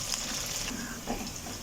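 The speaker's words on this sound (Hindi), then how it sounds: "तो हम चम्मच को चलाते रहेंगे ताकि भिंडी एक जैसी इवनली" Okra fries in oil as a spoon keeps stirring it, giving a dense, close sizzling hiss with soft scraping movements over the brief stretch.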